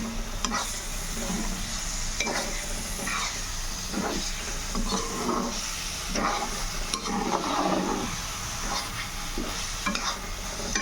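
Cashew paneer curry masala sizzles steadily in a pan while a spoon scrapes and stirs in an irregular rhythm, close up and continuous with no talk.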